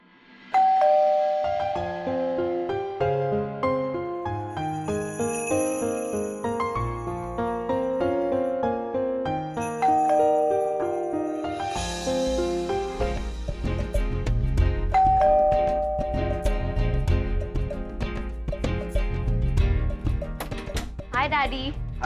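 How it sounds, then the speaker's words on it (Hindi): A doorbell chimes again and again at a family home, its bright tones ringing out clearly in a repeating pattern, with indoor sounds and some activity building toward the end. "कब से घंटी बजा रहा हूँ मैं?"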